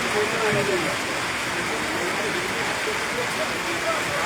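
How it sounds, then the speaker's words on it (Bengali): Heavy rain pours down over a village, a steady, dense downpour hissing without pause from start to finish, close and fairly loud. "এরকম ভরি আবহাওয়া বা টানা ভারী বর্ষণ"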